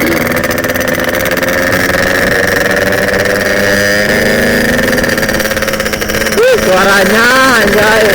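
A modified Yamaha RX-King motorcycle idles nearby with a loud, raspy two-stroke drone, then the rider blips the throttle a few times, the revs rising and falling in quick swells near the end.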